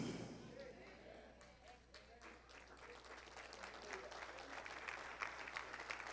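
Church congregation applauding after a call to testify at the altar, a steady wash of clapping that swells and holds throughout, moderately distant with a faint background hum.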